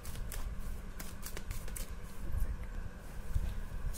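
Tarot cards being shuffled by hand at close range, a run of soft riffling and slapping bursts over a few seconds with no talking.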